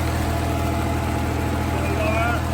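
A harvester motor runs steadily in first gear with no load, a constant close engine drone that fills the short stretch without change.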